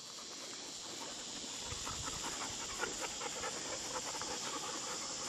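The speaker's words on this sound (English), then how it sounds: "How come you're panting?" A dog panting rapidly and steadily up close, a continuous breathy rhythm with no voices over it.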